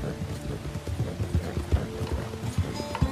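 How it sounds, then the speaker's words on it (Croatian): Horses gallop in the Red Dead Online video game, their hoofbeats a steady run of thudding clip-clops close up, with a faint whinny and no talk over them. "Sad bi konje trebali da stanu"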